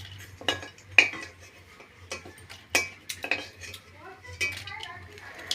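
A metal spatula scrapes and clinks against a frying pan as fried eggs for egg gravy are lifted out one at a time. Several sharp, quiet taps come at irregular intervals in a calm kitchen.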